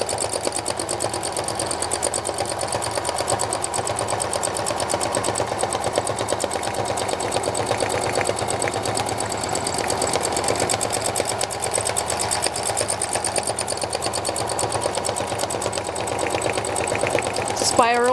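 Sewing machine running steadily through free-motion stitching on a painted clutch bag, a continuous close whirring hum with fine rapid needle rhythm lasting throughout, with no pauses.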